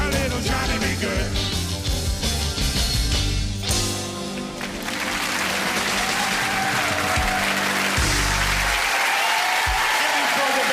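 A television studio audience applauds and cheers loudly as a live rock-and-roll number ends on a 1994 variety show, the band's final chords ringing under the crowd before the applause takes over.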